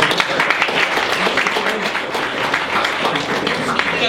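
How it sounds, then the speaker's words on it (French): A live audience applauds at a French-language event, a dense, steady wash of clapping that lasts about four seconds, with voices mixed in. "Vous allez l'applaudir d'abord pour ça"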